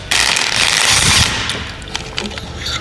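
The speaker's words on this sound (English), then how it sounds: "to get the cam out, we're gonna pull the crank pulley here" Crank pulley being pulled off a 6.0 LS V8 during a cam swap teardown: a loud burst of ratcheting, grinding tool noise for about a second, then lighter metallic clicks and clanks from close by.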